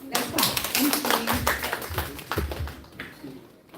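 Audience applause after a quiz at a healthy living and bowel cancer prevention awareness session, a short burst of scattered claps with voices mixed in, fading toward the end.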